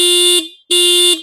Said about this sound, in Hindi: एक बार मैं आपको इसका हॉर्न चेकआउट कराता हूँ।